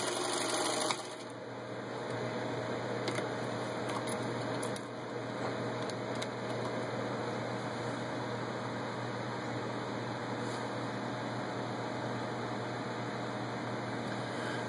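A serviced vintage 1947 Singer 15-91 sewing machine runs steadily for a long stretch, its even mechanical whirr holding at a constant close level with no talk.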